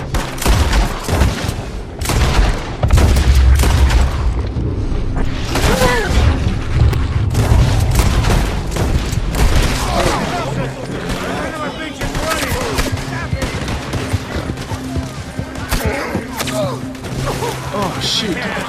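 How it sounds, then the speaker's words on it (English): Gunfire from Red Dead Redemption 2 in dense, overlapping shots and booming blasts, loud and close, with voices mixed in throughout. "I knew they were going to open fire"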